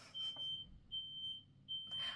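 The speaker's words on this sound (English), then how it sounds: "Oh my god, there's my fire alarm." A home smoke alarm sounds three steady, piercing electronic beeps at even intervals while food is being cooked, with faint room noise between the tones.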